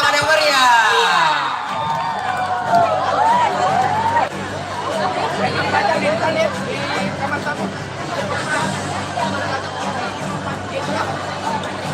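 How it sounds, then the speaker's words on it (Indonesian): Crowd at a school competition event cheering and clapping for the first-place winner, loud whoops and shouts over a busy babble of voices that continues throughout. "Inilah juara 1 kita, Dinda Cynthia Bella. Beri tepuk tangan yang meriah."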